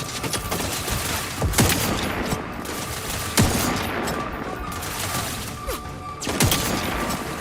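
Sniper rifle fire in the video game The Outer Worlds 2: about four sharp, heavy shots spaced a couple of seconds apart, each cracking out over a constant layer of game background noise.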